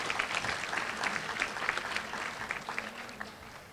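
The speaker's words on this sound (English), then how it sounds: "Students, give your parents a round of applause" Students in an audience applaud their parents at a school district scholars ceremony, a dense burst of indoor clapping from many hands that holds steady for a few seconds and then thins slightly.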